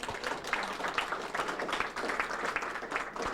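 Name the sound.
audience applause for Terry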